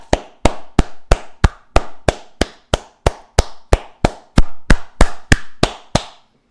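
About eighteen sharp, evenly spaced slaps ring out close and loud, each a crisp percussive crack with a brief decay, like hands or skin clapping in a steady rhythm with no voices.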